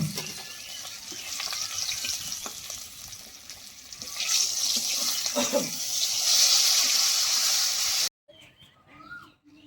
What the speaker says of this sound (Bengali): এইভাবে মাছটা ভেজেছি, এবার তুলে নেব। আর এইভাবেই আমি সব মাছ ভেজে নেব।